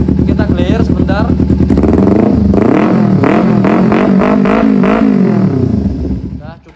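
A Kawasaki Ninja 250 motorcycle engine revs close by, loud and raspy, its pitch climbing and falling through several throttle blips before it drops away at the end.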